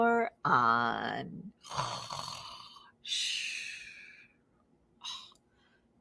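A storyteller's voice imitates snoring for sleeping animal friends in a children's book, with a few long rasping inhaled snores and breathy exhales separated by short pauses, close and fairly loud.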